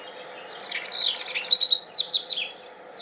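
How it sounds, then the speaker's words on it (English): A common bird gives a quick series of shrill little chirps, a bright twittering run of high notes lasting about two seconds, fairly close and alone over a quiet background. "It's like a series of shrill little chirps"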